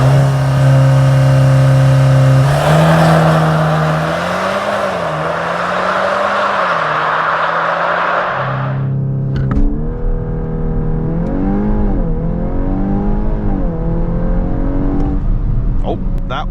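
VW Golf R 8.5 Variant estate on summer tyres accelerating flat out on an open country road, the engine roaring steadily upward through the gears with brief dips at each shift, loud and close from inside the car.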